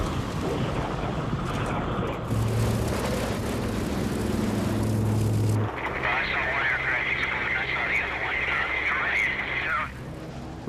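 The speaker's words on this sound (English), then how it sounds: "Everything on the plane is shaking." A propeller plane in flight during a WW2 air war scene, shaking as it flies: a loud, steady engine roar with wind rush, which later gains a buzzing higher drone. A voice talks over it.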